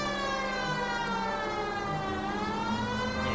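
A police car siren wails steadily and loudly in the video game LA Noire, its rising and falling tone continuous across the whole stretch with engine and road noise underneath.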